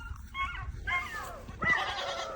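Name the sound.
goats bleating and dogs barking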